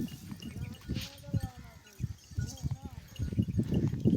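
Sheep bleat in a village setting, several short wavering calls at moderate distance, mixed with people talking and some rustling.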